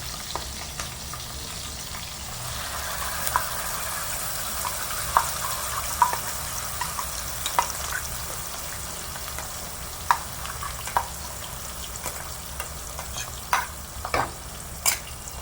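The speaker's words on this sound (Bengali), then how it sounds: "পেস্টটা আমি পুরো ঢেলে দিলাম। এবার দিয়ে এই তেলের মধ্যে ভালো করে নেড়ে চেড়ে দেবো।" Spice paste for a Hyderabadi paneer dish sizzles steadily in hot oil while a spatula scrapes and clicks through it in irregular strokes, close and moderately loud, with no voices.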